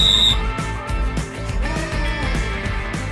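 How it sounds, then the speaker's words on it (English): A custom 3D-printed whistle gives one short, shrill blast at a swimming competition, then the noise of the venue and music-like tones carry on behind it. "This is the custom whistle we printed."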